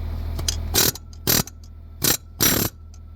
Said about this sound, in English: on the belt tensioner down here, it takes just a 1/2 inch ratchet end